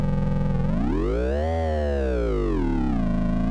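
A sustained synth tone from a Bastl Kastle drum synth's stepped LFO sequence bends smoothly up in pitch and then sweeps back down, rich in harmonics and steady in loudness, with no voices.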